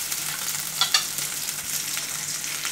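Onions and potatoes sizzle loudly in a pan over a high gas flame, a dense continuous hiss with a couple of brief stirring scrapes near the start.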